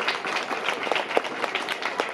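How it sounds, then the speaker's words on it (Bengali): Audience clapping for a school headmaster receiving a memento, a brief even patter of applause with a few louder individual claps, moderately near and without talk over it. "সবাই একবার করতালি দেবেন।"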